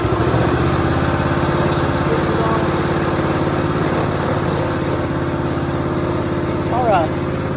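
Small engine of a soft wash sprayer running loud and steady with a constant buzzing drone that barely wavers, close by, with a brief higher whine near the end.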